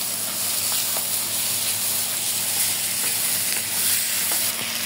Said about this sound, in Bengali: আমার চিংড়ি মাছটা মোটামুটি ভাজা হয়ে গেছে, আমি আলু দিয়ে দেব। আলুগুলোও ভাজি করে নেব,